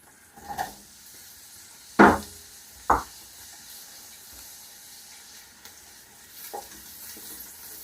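Onions and celery tipped into melted butter in a pan, for a leek and potato soup: two soft thuds as they drop in, followed by a quiet, steady low sizzle and occasional light stirring noises.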